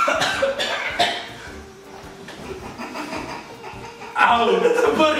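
A few sharp coughs break out close by, mixed with chatter and chuckling voices in a lively indoor setting.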